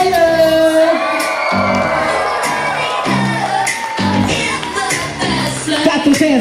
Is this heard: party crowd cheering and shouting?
yes